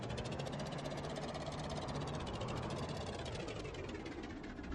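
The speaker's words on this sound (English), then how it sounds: "this small engine is struggling right now." A small quadcopter engine in the game Stormworks labours at high altitude, giving a steady, dense droning whine with a rough knocking texture that holds at an even loudness throughout, with no talking.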